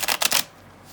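A deck of tarot cards is shuffled in one quick riffling burst of about half a second, close and crisp, with quiet room tone after.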